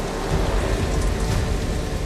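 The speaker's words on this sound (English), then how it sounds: "But there will be no shelter from this storm." Heavy thunderstorm rain pours down steadily and loudly, with a deep low rumble of thunder running underneath the dense downpour throughout.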